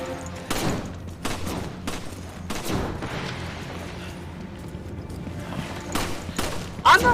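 Bursts of gunfire in a video game, several separate volleys of sharp shots with quieter stretches between them and a muffled voice underneath.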